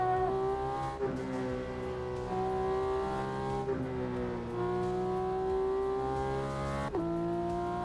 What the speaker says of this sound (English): this is the Porsche 911 992, the GT3 RS